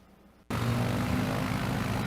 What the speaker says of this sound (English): flying around with his Piper airplane